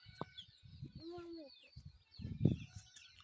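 Chickens on a farm clucking nearby, with short bursts and a longer warbling cluck, faint and mixed with brief background voices.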